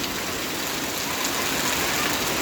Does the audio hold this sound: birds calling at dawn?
no